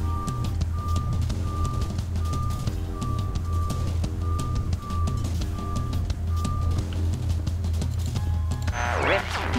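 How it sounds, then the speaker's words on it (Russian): Electronic alarm clock from the video game Superliminal, sounding as a steady series of short evenly spaced beeps over a low rumbling game ambience, then a brief fluttering effect near the end. "расслышать звук будильника, который раздается автоматически, если вы приблизитесь к дистанции."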